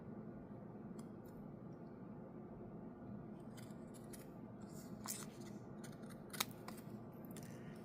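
Scissors snipping through mixed-media paper for a mini masterboard, a few faint sharp cuts and paper rustles building toward the end over a quiet room hum.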